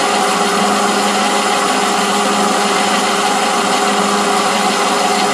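South Bend 13 inch lathe makes a cut, a steady, loud, dense whirring machine noise that holds constant throughout without pause.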